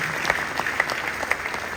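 A congregation at a church gathering applauds, a dense burst of clapping with sharp individual claps standing out, continuous and fairly close throughout the short moment.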